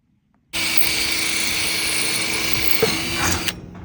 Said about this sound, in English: what Tyler's doing now is drilling his roof metal